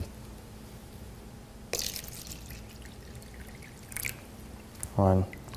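Tap water is poured onto a tea bag in short, quiet bursts of splashing and trickling, with a brief thud near the end, against a faint background hum.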